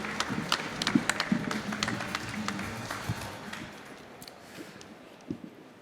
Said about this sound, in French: Sous vos applaudissements et en musique,